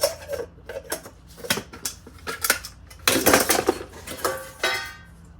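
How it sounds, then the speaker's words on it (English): Stainless steel pots, bowls and plates recovered from fire ashes are handled and set down, giving a close series of sharp metallic clanks and clinks, irregular and sometimes clustered, with brief ringing. "Another stainless steel bowl, a plate."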